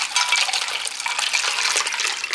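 Ice cold water poured over freshly sliced onions, a continuous splashing gush of liquid lasting a couple of seconds, fairly close and alone.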